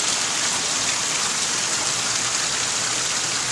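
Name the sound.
heavy rain pouring causing flash flood in street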